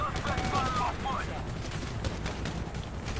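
Dense rapid gunfire in a shooter video game, a continuous close rattle of shots filling the whole moment, with a brief voice early on.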